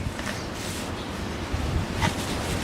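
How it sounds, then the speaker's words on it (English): Wind blows steadily outdoors on a cold day while a horse chestnut bonsai is being dug up, a broad rushing noise with faint gusts and no talk. "windy, cold day out here today"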